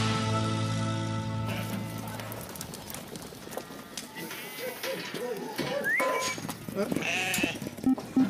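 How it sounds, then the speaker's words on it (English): Sheep bleat repeatedly while being herded in a field, with several overlapping close calls over a steady outdoor background, followed by lower, rougher bleats toward the end. "Now we're herding some sheep."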